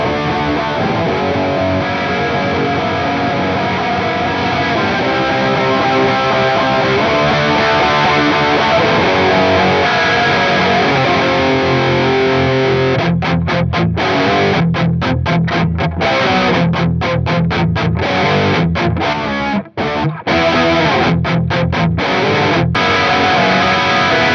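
A heavily distorted rock guitar riff plays on its own, thick and saturated with gain, steady chugging chords that cut off in short stabs near the end.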